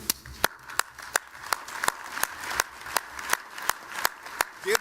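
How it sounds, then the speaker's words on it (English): Sparse, separate hand claps ring out at a steady pace through a room at a business hall of fame event, each sharp and distinct rather than merging into a wall of applause, with quiet gaps between them. "Give yourselves a round of applause"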